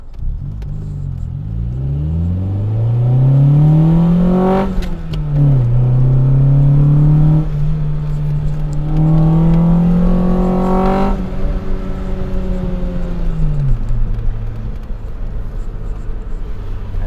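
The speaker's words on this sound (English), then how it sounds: "The intake sounds a little bit different when it's wound up" A 1989 Honda Prelude engine roars at wide open throttle, its intake pitch climbing steadily through the gears with brief dips at each shift, loud and close.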